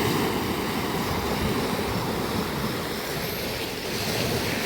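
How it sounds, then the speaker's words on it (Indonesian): Ocean waves breaking steadily on a rocky, stone-covered beach in Indonesia, a loud continuous roar of surf with wind noise on the microphone, no talking. "Tuh ada ombak lagi tuh."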